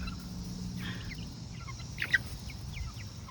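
Adolescent chicks and an adult hen in a backyard give faint, scattered clucks and chirps over a quiet outdoor hum, with one slightly louder call near the middle.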